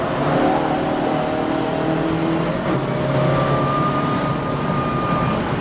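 Race cars, an Audi TDI among them, drone loudly and continuously down the Bentley Straight at Snetterton in a 750 Motor Club endurance race, with their engine tones overlapping and rising steadily.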